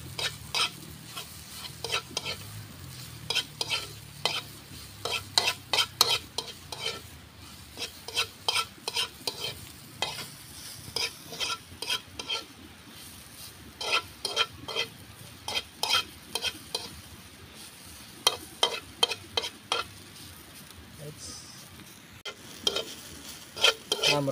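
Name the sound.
stirring and frying lomot seaweed in a pan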